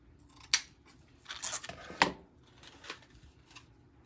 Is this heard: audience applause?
no